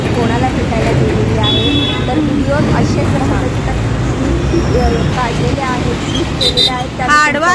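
Busy road traffic in Ghatkopar, Mumbai, rumbles steadily close by, with engines droning and a few faint horn toots. People talk over the traffic throughout.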